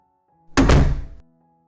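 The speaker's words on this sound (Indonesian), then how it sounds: "membuka pintu kamar mandi dengan kencang" A bathroom door is flung open hard, producing one loud, close wooden thunk with a short rattling decay that lasts about half a second against an otherwise quiet background with a faint hum.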